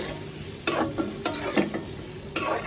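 Potatoes sautéing in a pan for a winter cauliflower dish sizzle steadily while a spatula scrapes and clacks against the pan in a few quick, close strokes.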